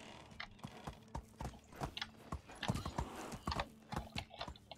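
Hooves clop in a steady, uneven galloping rhythm as a horse is ridden in the medieval game Medieval Dynasty, close and distinct, with no talk over it.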